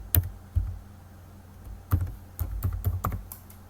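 A password is typed on a computer keyboard, a few separate clicks followed by a quicker cluster of keystrokes, close and fairly quiet with no speech.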